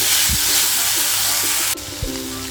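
Beans with asafoetida and turmeric are stirred in a hot pan over a gas flame, making a continuous close sizzle and hiss with a few soft spoon knocks against the pan.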